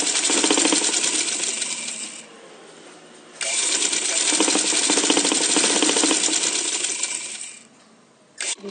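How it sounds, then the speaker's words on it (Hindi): A sewing machine runs a long seam down fabric folded around piping cord, about half an inch from the edge. The stitching is steady and fairly loud, stops briefly partway through, then resumes and ends with a short final burst. "एक पाँव के बराबर रख के हम इसके मुकम्मल नीचे तक सिलाई लगाएंगे"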